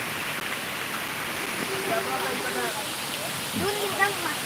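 Steady rain hissing down in a Konkan village, an even wash of falling water that stays constant, with people talking over it.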